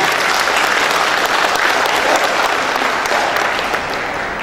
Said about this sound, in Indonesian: Tepuk tangan untuk tim koalisi.